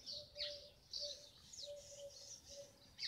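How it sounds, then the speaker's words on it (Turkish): Birds chirping outdoors in spring with flowers around, repeated bright tweets and short calls at a steady pace alongside a low cooing note, moderately close with no talking. "Sadece kuş sesleri"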